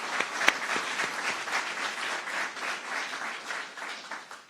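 Sustained crowd applause at a Tampa news conference honoring Governor DeSantis, steady dense clapping from many hands throughout, fairly even in loudness with one sharper clap near the start.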